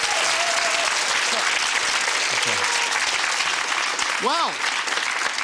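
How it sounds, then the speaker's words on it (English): A game-show studio audience claps steadily and loudly, while a host's voice speaks briefly over the applause and electronic tones chime near the end. "give him a round of applause anyway"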